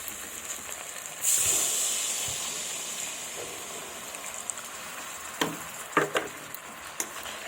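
Water poured into a hot pan of jujube (kul) chutney with melted sugar sets off a sudden loud hiss that slowly fades to a steady sizzle, broken by a few sharp clanks of a spoon near the end.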